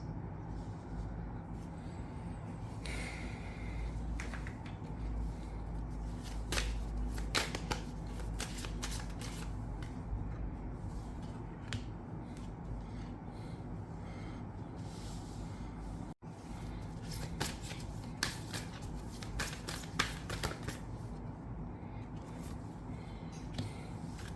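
Oracle cards being shuffled by hand, a steady soft rustle and riffle of card stock running through most of the stretch with no talk, over a low background hum.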